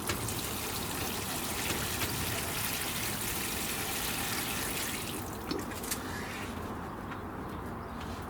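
Water pours from a watering can onto lilies in a greenhouse, a close, steady splashing trickle that runs for several seconds and then thins out as the pouring tails off.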